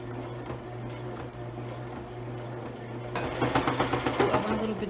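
Sewing machine backstitching and sewing a lined zipper pouch, a low motor hum that picks up into a faster run of rapid rhythmic needle thumps toward the end, fairly quiet and close.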